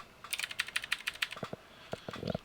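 Quick irregular keystrokes on a faulty USB computer keyboard, a string of sharp close taps followed by a few heavier thumps and a final flurry, with no voices.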